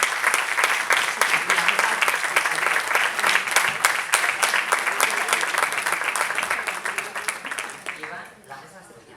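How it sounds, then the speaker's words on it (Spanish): An audience at a medical conference on scleroderma vaccination breaks into sustained, dense applause that holds steady, then thins and fades out near the end, with a voice speaking briefly over it. "Les pido un fuerte aplauso para nuestros 3 especialistas"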